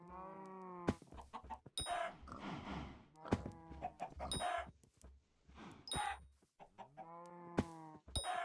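Chickens in the video game Minecraft Hypixel Skyblock cluck repeatedly in short, clear, close calls spaced irregularly, with sharp game-like clicks and pops between them and no talking.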